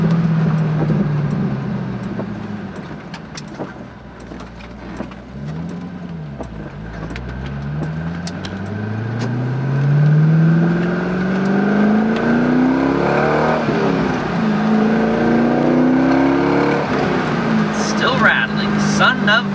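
A C5 Corvette fitted with a C5R race car shifter revs through repeated downshifts, engine pitch sweeping up and down in blips over a steady cabin drone, with people talking over it.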